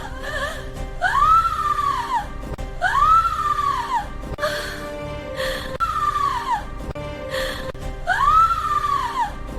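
A girl screams after being burned on the cheek with a red-hot iron rod while asleep in a palace. Four loud, drawn-out cries rise and fall at a steady pace, each wavering high and close, with no talk.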